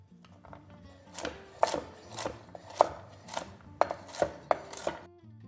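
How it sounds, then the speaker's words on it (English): Walnuts roughly chopped with a knife on a board for a salad, a sequence of about eight crisp thuds at an uneven pace, close and fairly quiet with no speech. "for some texture, we're gonna do 1/3 cup of roughly chopped walnuts"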